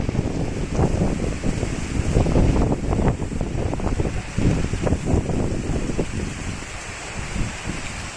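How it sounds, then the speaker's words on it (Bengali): Strong gusting wind buffets the microphone in loud, uneven roaring bursts during heavy rain outside a building, with a broad rushing wash continuing throughout and no voices. "কি প্রচণ্ড বাতাস, আমি নিজে দাঁড়ায় থাকতে পারি না"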